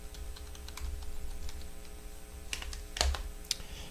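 Fingers typing on a computer keyboard, a quick irregular run of light clicks with a few louder key strikes near the end, close and alone over a low room hum.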